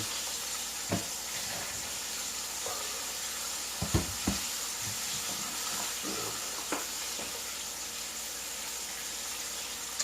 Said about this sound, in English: let's go ahead and put the last piece of fish in.